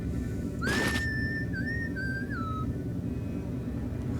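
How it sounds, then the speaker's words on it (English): A video game character in Deus Ex Invisible War whistles a single rising then wavering tune lasting about two seconds, standing out clearly above a steady low ambient rumble. "Okay, he's whistling at me."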